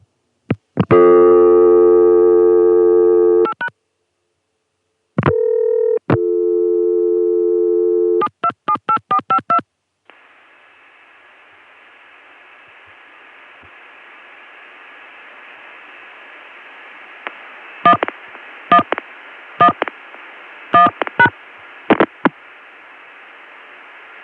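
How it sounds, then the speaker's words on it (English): On a 1980s ConTelNet CCSA telephone line through a Connecticut switch, loud steady call-progress tones are followed by quick bursts of touchtone dialing digits. A long hissing line tone follows, then a second clattering run of dialed digits. "now for the Connecticut switch, I'll dial 727-8452, and then when I get cut through, I'll dial 1111."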